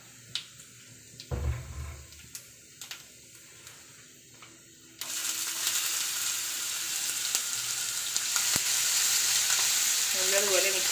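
Crushed garlic, ginger and green chillies hit a pan of chickpeas with a few knocks and thuds, then a loud, steady frying hiss takes over and swells, broken by an occasional clink, with no voices.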